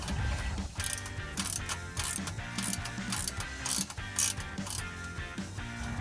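A ratchet wrench tightens a 15 mm bolt on an exhaust clamp on a 2015-2022 Dodge Challenger V8 axle-back exhaust, steady close clicking in repeated bursts with a faint mechanical hum beneath.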